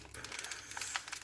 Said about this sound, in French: Maintenant, on déchire tout.